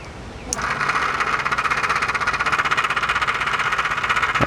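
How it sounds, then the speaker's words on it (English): A Gas Tapper fuel siphon pump switches on and runs with a steady, fast rattling buzz as gasoline is drawn from a gas can through its filter, loud and close throughout. "It'll rattle a little bit until the gas gets completely through the filter and the pump, and it is going in."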